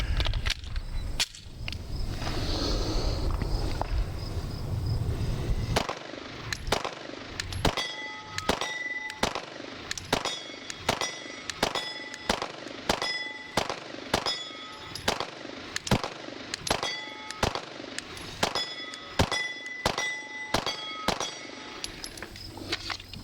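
A P320 pistol fitted with a BC Gunworks slide fired on an outdoor range, a steady string of about twenty sharp, loud shots at an even rhythm, each followed by a ringing metallic clang from steel targets.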